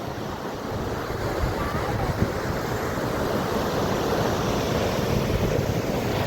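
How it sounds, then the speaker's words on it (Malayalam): Rough surf at Poonthura on a turbulent sea, a steady broad roar of crashing waves mixed with gusty wind buffeting the microphone, continuous and loud throughout with no talk. "കടൽ ഇളകി നിൽക്കുകയാണ്"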